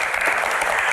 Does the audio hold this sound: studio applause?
yes